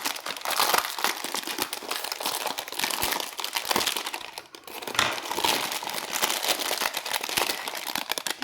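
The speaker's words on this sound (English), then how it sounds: "So excuse the rustling." Close, continuous crinkling and rustling of plastic packaging, with irregular crackles and brief dips, no speech.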